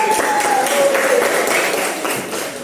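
Applause for a student group in a classroom lesson, a steady wash of clapping from many hands with faint voices mixed in throughout.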